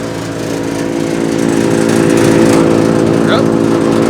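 Mechmaxx DCH7 wood chipper with hydraulic rollers running, a loud steady engine drone that builds slightly, with a faint chirping squeak near the end.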